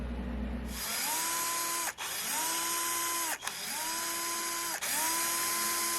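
A power drill whirs in several short bursts, each spinning up and winding down, as screws are backed out of scrap wood strips cut from an old farmhouse door; loud and close, with no talking.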